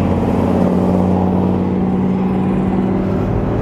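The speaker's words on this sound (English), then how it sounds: "Check out this truck." A truck rumbles past on the road, a steady loud engine drone with a sustained low hum and broadband road noise throughout, heard from close by without talk.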